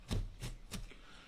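A knife chops onion on a cutting board while homemade chicken noodle soup is prepared, three quiet, evenly spaced cuts heard up close with no talking.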